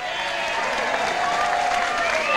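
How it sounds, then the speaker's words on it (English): Dance club audience in Williamston, South Carolina, clapping and cheering to welcome first-time dancers, a dense, steady wash of applause from a crowd, with a voice talking over it. "See there, we're all cheering for you."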